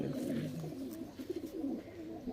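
A pigeon in a loft gives a low, soft cooing, a few rolling throaty notes heard close but quiet.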